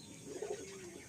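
A male pigeon in a loft gives a single soft, low coo, faint and close, against a quiet background.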